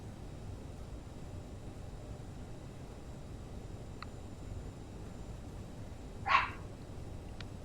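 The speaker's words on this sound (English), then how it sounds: "Stop your barking." A dog gives a single short bark indoors, fairly faint and standing out once above a steady background hiss.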